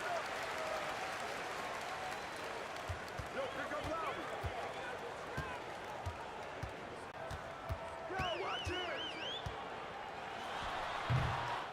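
Arena crowd in the NBA 2K20 basketball game, Dallas Mavericks against Toronto Raptors: a steady crowd roar with scattered ball bounces and sneaker squeaks, under continuous commentator talk.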